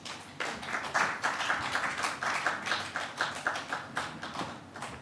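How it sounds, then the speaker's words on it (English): An audience at a peace-themed music and storytelling event applauds as a performer walks on stage: a steady wash of many hands clapping, moderately distant and sustained throughout. "A round of applause as she comes on stage."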